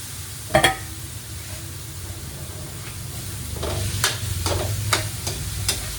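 Pork being pan-fried in hot oil for karne frita, a steady soft sizzle with a sharp clatter near the start and several brief scraping stirs later on.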